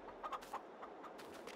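Hens cluck in a few short, soft bursts in a farm setting in Farming Simulator 22, quiet and fairly close with no voices.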